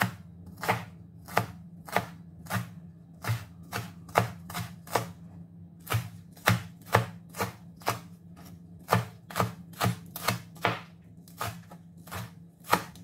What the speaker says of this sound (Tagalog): unahin natin yung spring onion. I-mince lang natin mga loads.